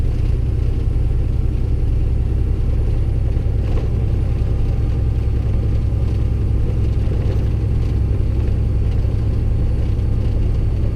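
A truck with a 13-speed transmission driving through a small neighborhood, its engine producing a loud, steady low rumble and drone heard from the cab without pause, with no talking.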